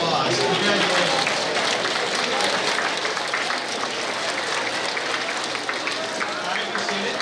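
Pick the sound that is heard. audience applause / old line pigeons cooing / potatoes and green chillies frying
audience applause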